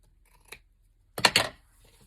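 Scissors cut a paper layer for a journal, with one short snip followed by a quick double cut, close and quiet with no talking.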